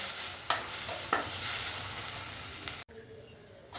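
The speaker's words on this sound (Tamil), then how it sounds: "மிளகா பொடி சேர்த்தவொடனே ஒரு ரெண்டு நிமிஷம் வதக்கிங்கனாவே போதும்" Spices with chili powder sizzle and hiss steadily in a hot pan for anchovy fish curry, with occasional scrapes of stirring, close and continuous before cutting off abruptly.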